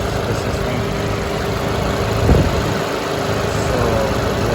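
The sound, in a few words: car engine revving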